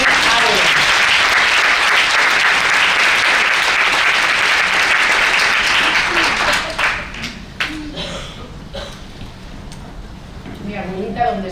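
An audience at a talk on emotional intelligence gives dense, loud, steady applause. After about six seconds it thins into scattered individual claps and fades out.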